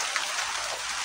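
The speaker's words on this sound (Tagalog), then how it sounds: "grabing ulan" Heavy rain pours down in a steady, dense hiss with no pauses, loud and close, and no voices over it.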